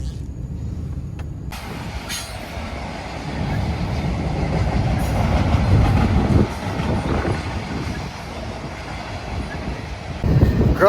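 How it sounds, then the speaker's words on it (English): Train rolling past on a nearby railroad track beside a farm, a long broad rumble with rattling cars and faint clatter swelling and easing over about ten seconds, heard from outdoors with some wind noise. "Growing up so close to a railroad track, you kind of get used to it, and it's funny whenever you hear it"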